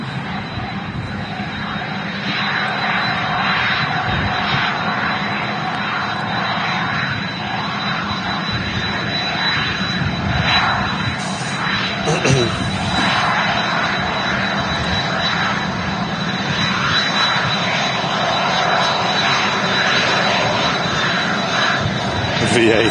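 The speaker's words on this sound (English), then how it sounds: "There we go, the departing aircraft." A departing jet airliner at Manchester Airport, a loud sustained engine roar and whine building steadily throughout, heard outdoors with a person talking over it.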